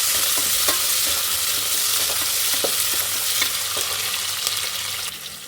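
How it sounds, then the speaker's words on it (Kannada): Onions and cashews frying in a pan toward golden, a loud, steady sizzle close up with occasional scraping stirs, easing slightly at the very end. "ಈರುಳ್ಳಿ, ಸ್ವಲ್ಪ ಗೋಲ್ಡನ್ ಫ್ರೈ ಬರೋವರೆಗೂ ಬಾಡಿಸ್ಕೊಳ್ಳೋಣ"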